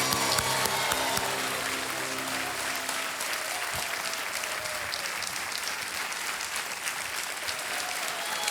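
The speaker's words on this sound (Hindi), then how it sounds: "तालियां बजते रहे उषा यादव जी के लिए।" The studio audience of Kaun Banega Crorepati applauds a contestant taking the hot seat, a loud, sustained burst of clapping that runs throughout, with a musical sting fading out under it at the start.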